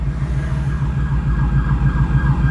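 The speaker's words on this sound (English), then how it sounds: "There's sirens coming from somewhere." Emergency vehicle sirens wailing nearby, a loud, continuous rising and falling tone over a low engine rumble from a car interior, with no talking.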